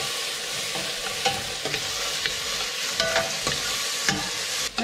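Onion and tomato sauté in a pan with a constant close sizzle, punctuated by repeated knocks and scrapes of a stirring spoon, with no talking.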